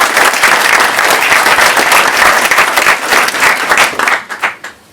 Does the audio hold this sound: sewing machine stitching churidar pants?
no